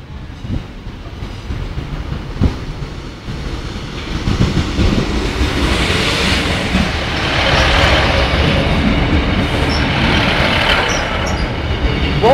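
Class 156 diesel multiple unit 156470 pulling out of Lincoln Central toward Sleaford by the level crossing: a close, loud rail rumble that builds after a few seconds into a steady roar, with no talk.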